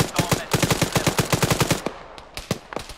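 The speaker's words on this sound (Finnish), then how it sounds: "Suunnassa 160, sieltä meitä ammutaan." Rapid automatic gunfire from a video game, a dense burst of sharp, evenly spaced shots followed by a few scattered single shots, loud and close.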